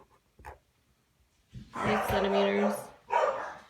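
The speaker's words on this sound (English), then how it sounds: "Sorry about my dogs." Dogs bark indoors in a few sharp bursts, one short yip followed by a louder run of barking and another bark, alongside a person talking.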